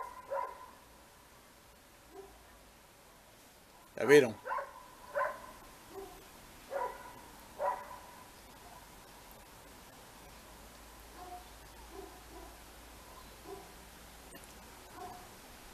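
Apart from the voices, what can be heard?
neighbourhood dog barking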